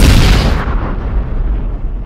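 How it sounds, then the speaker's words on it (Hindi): A single loud explosion from a Hindi TV serial bursts at the start and then rumbles and decays over about two seconds, with no speech. "यहाँ पे गोपी बहू ब्लास्ट होते हुए"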